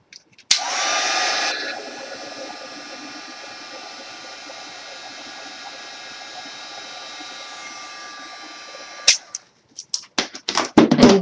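A heat embossing tool runs on a stamped card, a steady airy blower hum lasting about eight seconds after a loud start, then clicks off, followed by a few handling knocks.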